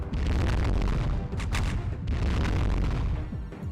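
Flak guns firing in the space strategy game Halcyon 6: Starbase Commander, a dense barrage of rumbling booms and bursts that stays loud and continuous the whole time, with a sharper pop near the middle.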